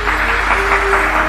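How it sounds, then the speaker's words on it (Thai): Loud, dense applause from the audience at a 2020 Unicity Recognition Day event honoring new Presidential Directors, with a sustained tone underneath, continuous throughout the short moment. "ขอเสียงปรบมือดังๆให้ทั้ง3ท่านด้วยครับ"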